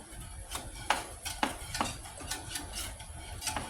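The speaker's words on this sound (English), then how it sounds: "you want to continually stir your bechamel until you start to see it thicken" A whisk stirring bechamel sauce in a pot gives quiet, irregular metallic clinks and scrapes against the pan, close up and without talking.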